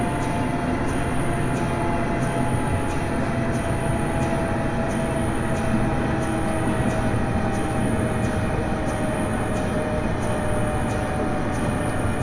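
A Class 385 electric train on the Glasgow to Dunblane and Alloa line travels at speed, heard from inside as a loud, steady rumble and rushing hum with a constant tonal whine and no pauses.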